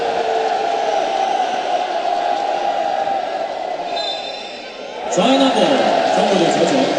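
Basketball arena crowd at a women's Asia Championship semifinal between Korea and China in Wuhan, protesting a referee's call: a steady roar of voices that dips, then swells into loud booing and shouting near the end.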